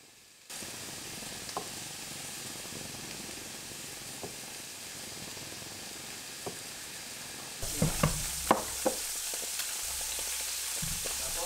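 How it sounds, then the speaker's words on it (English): Soft tofu fries in a pan on a stove in an off-grid mountain cabin, a steady close sizzle broken by a few crackles and pops that grow louder and sharper toward the end. "I just have to boil the egg noodles and fry pan the soft tofu."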